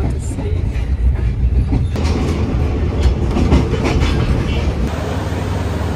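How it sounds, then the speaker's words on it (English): A Thai second-class sleeper train from Bangkok to Chiang Mai roars through tunnels at night, a loud, continuous low rumble and rattle of wagons with rhythmic clicks from the wheels and faint talk underneath. "I think we're going through loads of tunnels because it is so loud."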